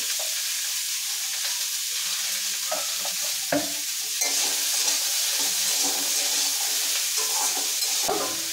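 Cucumber and potato pieces fry in the little oil left over from frying fish, giving a continuous close, bright sizzle and hiss, with occasional soft stirring scrapes and clicks throughout.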